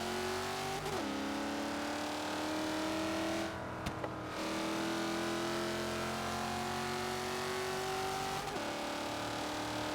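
A Bentley in the racing game Forza Horizon 3 drives with a continuous loud engine drone. Its pitch climbs steadily through each gear, and brief drops mark the gear shifts, with no voices.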